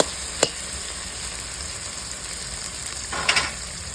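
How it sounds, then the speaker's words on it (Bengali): Onion, ginger and garlic fry for a chicken curry with a constant low sizzle, broken by two sharp scrapes of a spatula against the pan and nobody speaking. "আদা রসুনের কাঁচা গন্ধটা যতক্ষণ চলে যাচ্ছে না যায় তখন কষে নেবো"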